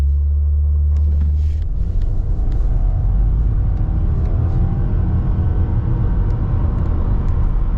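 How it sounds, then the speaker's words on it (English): A Subaru WRX GT launches hard from a standstill after revving, its engine rumbling loud and close as it pulls through the gears, with the pitch climbing steadily under a constant low road roar. "We'll do a rev launch"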